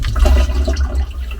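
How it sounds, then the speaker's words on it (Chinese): A portable RV toilet flushes in a short, loud rush of water close by. "那现在我也模拟一下往外冲水的情况"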